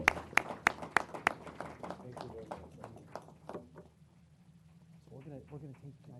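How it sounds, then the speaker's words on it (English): Applause for honored heroes at a city council meeting, with sharp claps at first that thin into scattered clapping, followed by a brief murmur of voices in the room. "Give them a big round of applause."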